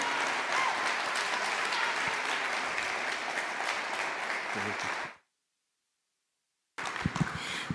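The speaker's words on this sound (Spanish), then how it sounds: "ahora sí el aplauso bien fuerte" Loud, steady applause from a large audience at a live concert event in Mexico, sustained for about five seconds before cutting to silence, then resuming briefly with scattered claps.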